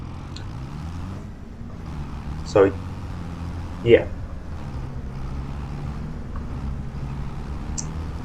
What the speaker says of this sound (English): Tractor is actually quite powerful. It has no issues whatsoever with this load.